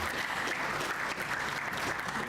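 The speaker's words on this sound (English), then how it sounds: "you can keep the applause going" Continuous audience applause fills the hall at the 2022 ACT Building & Construction Industry outstanding graduating apprentice awards, a dense, even wash of many hands clapping without a break.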